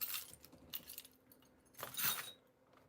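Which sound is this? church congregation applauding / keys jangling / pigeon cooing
keys jangling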